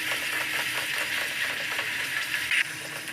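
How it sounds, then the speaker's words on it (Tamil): Semolina stirred with melting sugar in a pan for rava kesari, a steady soft sizzle and bubbling with rhythmic ladle scraping, close up and constant, with a brief louder scrape near the end and no talk. "கைவிடாமல் கலந்து விட்டுட்டே இருக்கணும்"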